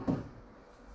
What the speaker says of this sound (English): So I'm just gonna pull these drawers out